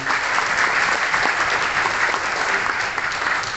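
Steady applause from an audience at a civic anniversary ceremony in Nusa Tenggara Timur, dense continuous clapping at even loudness throughout, with no voices rising above it.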